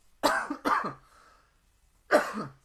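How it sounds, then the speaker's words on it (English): A sports commentator's cough during a StarCraft II match: two quick coughs close together, a short pause with faint low rumble, then a third cough, close and fairly loud. "Getting a cough."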